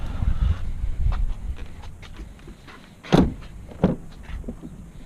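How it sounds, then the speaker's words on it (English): A 2016 Ford Focus RS door swings open with a latch click and a solid thunk, then a second clunk a moment later, close by over a low idling rumble. "So the doors open nice and wide."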